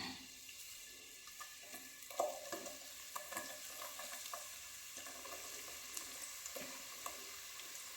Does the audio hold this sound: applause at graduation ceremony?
no